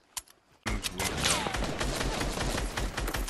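Rapid pistol gunfire in a shooter video game, a dense string of sharp close shots running almost nonstop after a brief quiet start.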